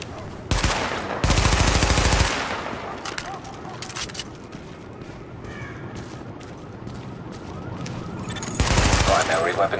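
Machine gun fire during a weapon test in a video game, loud, rapid bursts separated by quieter gaps with scattered single shots, the final burst returning at full intensity.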